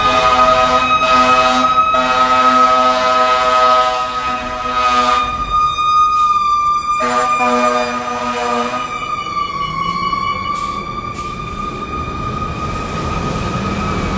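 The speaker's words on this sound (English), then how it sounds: "I'm going to pause for a minute and let the fire engine go by." A fire engine's siren passes nearby on a street, loud, steady wailing tones that hold and then shift in pitch as the truck moves by, with no talk over it.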